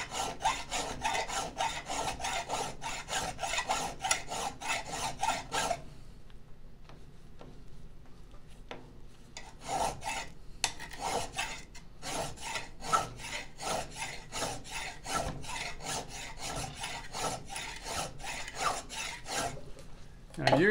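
A hand file rasps back and forth across a metal shaft to remove burrs, in steady rhythmic strokes. It pauses briefly partway through, then resumes, close and clear.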